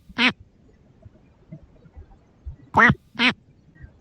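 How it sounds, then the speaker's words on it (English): Three short quacking calls from a penguin in the Dragon Adventures video game, one near the start and a quick pair close together near the end, loud and clear against a faint, low background hum. "So you heard that little quacking sound?"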